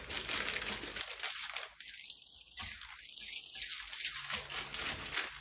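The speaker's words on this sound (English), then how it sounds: "Let's unbox it." Packaging around a pair of Nike Kwondo 1 sneakers crinkles and rustles during unboxing, a close, steady run of papery crackling with a few louder crunches.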